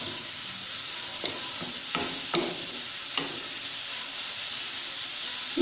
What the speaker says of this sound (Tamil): பாருங்க, கேபேஜ் நல்லா வதங்கிடுச்சு